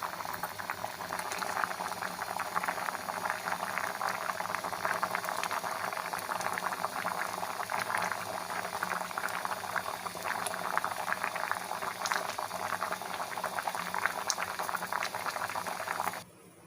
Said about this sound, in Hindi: ये कैरी उबल रही है, खूब अच्छी तरह से उबल जाए